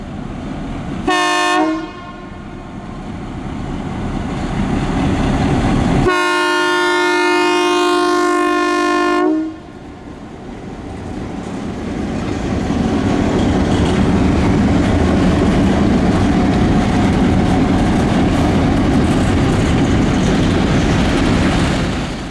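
A Florida Northern Railroad train led by a GP18 locomotive rolls along the tracks with a steady rumble, sounding two loud horn blasts, a short one and then a longer one, followed by continuing wheel noise.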